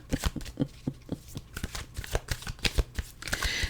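Tarot cards shuffled by hand at close range, a quick series of crisp riffling flutters and taps in an uneven rhythm, with no talk.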